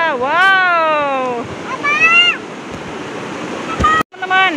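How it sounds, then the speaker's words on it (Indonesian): A waterfall by a river sends a steady, close rush of water through the whole stretch, partly buried under excited children's voices calling out. "Wow, ada air terjun."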